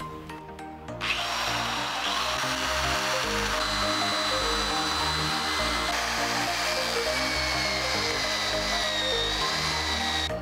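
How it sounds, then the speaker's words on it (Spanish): A power saw fitted with a giant paper blade cuts through a piece of wood, starting after a brief pause and then running as a loud, steady, grinding whine with no talk. "Vamos a intentar cortar este par de madera."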